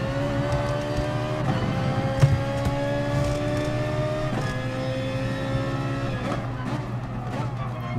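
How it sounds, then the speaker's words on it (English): A Ferrari 458 V8 race car lapping Bathurst in GT Sport, its engine loud and steady as it revs up through the gears in repeated rising sweeps, with a brief tyre or kerb bump. "It's a lovely V8 anyway."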